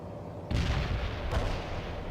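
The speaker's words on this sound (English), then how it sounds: "Ready grenades. Fire." Grenades fired by an infantry squad in the video game World in Conflict, two heavy booming blasts about a second apart, each followed by a rumbling roll of explosion.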